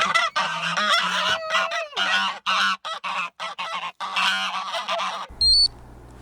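Loud, repeated honking of geese, harsh calls overlapping in quick succession close by, ending with a short electronic beep.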